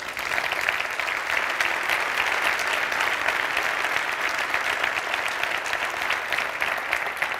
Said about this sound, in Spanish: queremos, por favor, que la primera ovación se la lleven ellas